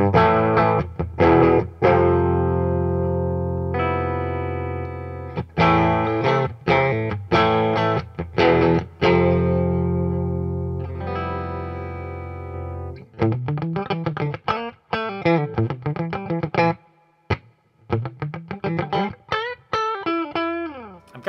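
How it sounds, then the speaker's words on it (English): Fender Boxer series Stratocaster electric guitar from 2021 played through its bridge pickup with distortion, loud sustained chords and riffs that shift into rapid picked single notes and choppy stabs, alone without talk. "Try out our bridge pickup."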